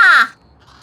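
A single loud, close crow caw from the video game Little Kitty, Big City, a harsh cry lasting a fraction of a second and then cutting off into near silence.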